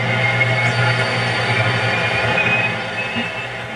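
Steady hiss of static on the empty 30 to 60 MHz FM band of a 1947 Hallicrafters radio, a dense, even wash of noise with a faint low hum beneath it and no signal.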